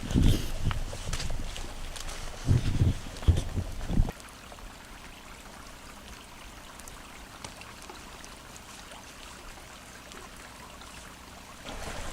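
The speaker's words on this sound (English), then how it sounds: "I think we are reaching the Yawbucks Brook that I mentioned before" Yawbucks Brook on the Narragansett Trail, a soft steady stream murmur through pine and moss woods, faint and continuous, with a few louder nearby rustles or footsteps at the start.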